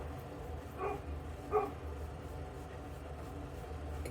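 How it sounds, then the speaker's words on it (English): The neighbor's dogs bark outdoors in the distance, two separate short woofs over a low steady background hum. "Neighbor's dogs are out."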